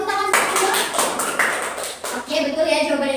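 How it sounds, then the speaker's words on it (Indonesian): A class of fifth-grade students claps together for a classmate's correct answer during a science lesson, a short burst of overlapping hand claps with voices talking over and after it. "Coba beri tepuk tangan untuk Pio."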